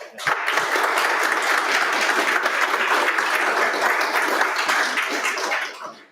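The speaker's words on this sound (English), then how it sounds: "that was applause you heard, not just me rustling the mic" An audience at a machine-learning meetup in London applauds after a talk, a dense, steady round of clapping that holds for several seconds and then fades out.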